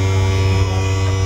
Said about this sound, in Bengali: এটা পাখাটা